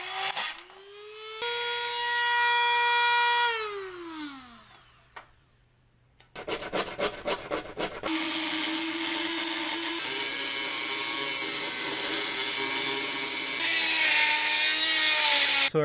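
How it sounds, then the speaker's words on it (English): Power tool cutting and trimming the center console of a C4 Corvette, with a rising and falling whine, a burst of rapid rough grinding pulses, then a loud sustained cutting roar. "So I guess we're going to cut the console."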